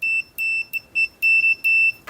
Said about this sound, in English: this set for continuity so it beeps.